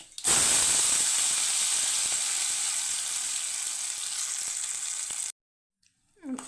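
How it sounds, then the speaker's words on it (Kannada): Tempering for chutney dropped into hot oil: a loud, close sizzle and crackle that bursts in and stays steady for several seconds, then cuts off abruptly. "ಎಣ್ಣೆ ಕಾದಿದೆ, ಹಾಕ್ತಾಯಿದೆ ನೋಡಿ"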